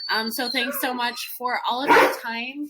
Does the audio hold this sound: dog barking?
yes